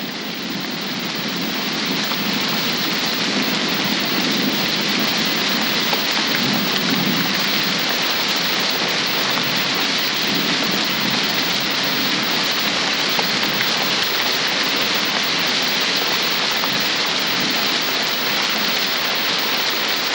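Steady heavy rain pours continuously in a scene from the film Shour-e Eshgh, with low thunder rumbling beneath the downpour throughout.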